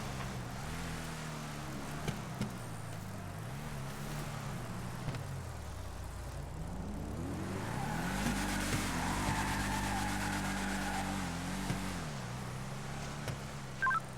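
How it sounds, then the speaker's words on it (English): A muscle car with an engine scoop and racing stripe does a burnout on a hillside road, its engine revving and wavering over a long tire screech that swells and fades at a moderate distance, with no talk. "Just did a big burnout on the road next to me going up the hill."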